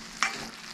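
A single quick scrape of a spoon as chopped banana flower and cooked lentils are stirred together in a pan for Kerala thoran, one short stroke against quiet kitchen background.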